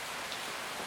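Steady rain falls in a soft, even hiss, a continuous wash of drops on surfaces with no breaks or thunder, calm and relaxing in tone.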